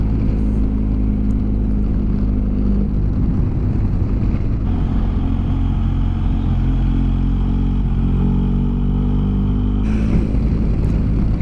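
A BMW R 1250 GS Adventure motorcycle riding on the road in Umbria near Castelluccio di Norcia, its steady engine drone and wind roar loud and continuous throughout, with no talking.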